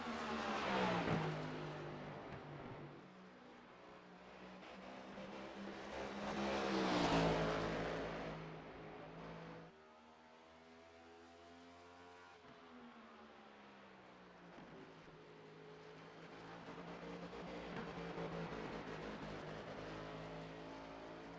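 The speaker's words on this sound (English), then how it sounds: "Robinson's car almost sounds like it's sputtering there" Engine of a 2023 Ford Mustang race car in a racing video game at Phoenix, a steady droning roar that swells and fades over about twenty seconds, uneven and faint, with a dip in the middle where the tone thins out.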